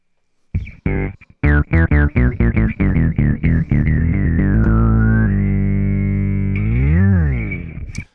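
Electric guitar run through a filter on a modular pedalboard: a quick run of clipped, sweeping notes gives way to a long held tone whose filter swoops down and back up, loud and upfront with no talk.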